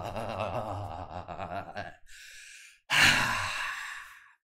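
A forceful exhale from a dragon's breath breathing exercise, a long breathy rush following a stretch of talk, then a second louder, sharper blast of breath that trails away.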